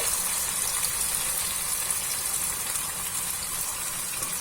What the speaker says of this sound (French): Maintenant, je vais mettre mon bouillon de légumes.